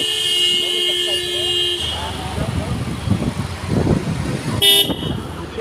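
Road traffic rumbles nearby on a ride from Colaba to the Gateway of India in Mumbai, with a sustained horn at first and a short honk later, while people talk over the engine noise.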